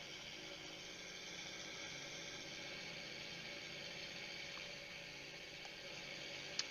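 Inline aircraft engine idling in the Wings Over Flanders Fields flight game, a steady, even drone that holds constant throughout with no talking.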